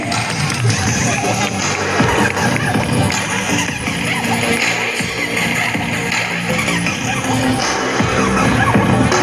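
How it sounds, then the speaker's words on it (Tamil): A crowd at a world-record Taekwondo event, where students punch nonstop and break roof tiles, keeps up a loud, dense roar of cheering and noise throughout, with clatter and voices mixed in. "அனைத்து கரங்களுக்கும் கைத்தட்டல்களை கொடுத்து உற்சாகப்படுத்துவோம்"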